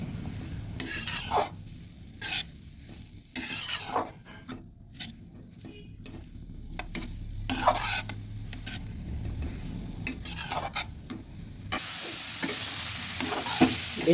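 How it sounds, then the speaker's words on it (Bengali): Grated carrots fry in ghee in a pan, stirred continually so the spatula scrapes and taps in bursts over a soft sizzle, close and without talk. "ভালোভাবে ঘিয়ের সঙ্গে নেড়ে মিশিয়ে ভেজে নিচ্ছি"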